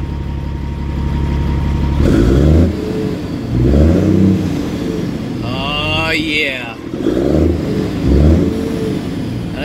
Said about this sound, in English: I'm going to fire it up, and we're going to let you hear that nice Caterpillar sound.